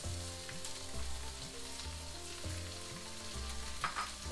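Onions sweat gently in a pan with almonds for aloo bonda and tomato chutney, giving a steady, soft, continuous sizzle with faint stirring scrapes throughout and no voices.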